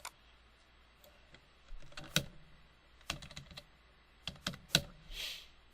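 A name being typed on a computer keyboard: quiet, close key clicks in short irregular bursts separated by brief pauses, with no talking.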